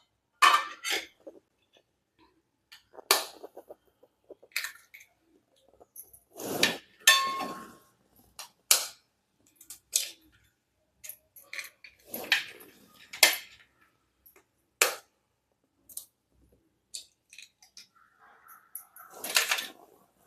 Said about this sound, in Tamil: இப்போ 5 முட்டை எடுத்துருக்காங்க,